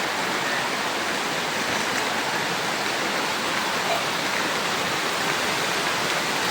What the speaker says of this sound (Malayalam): ഇതിൽ കൂടെയാണ് നമുക്ക് വെള്ളം ഒഴുകി വരുന്നത്